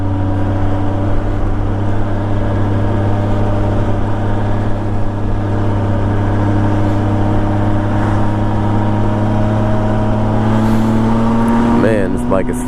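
A 1998 Honda Goldwing SE motorcycle engine drones steadily while riding, a loud, even hum with a slight rise in pitch near the end, under continuous wind rush.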